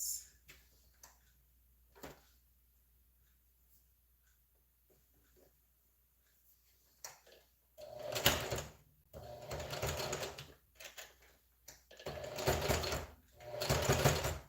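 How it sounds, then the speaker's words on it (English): Faint ticks and light handling at first, then a sewing machine stitching thick fabric for a headband in several loud, rapid runs separated by short pauses. "I believe my sewing machine should be able to climb on it"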